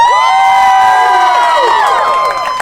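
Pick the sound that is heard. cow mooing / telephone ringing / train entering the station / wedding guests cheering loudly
wedding guests cheering loudly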